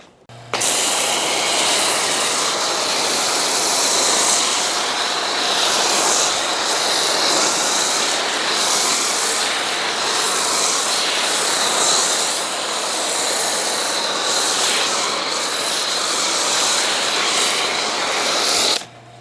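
An Earleas snow foam cannon on a pressure washer sprays foam in a loud, steady, hissing rush that runs unbroken for nearly twenty seconds with slight swells in strength.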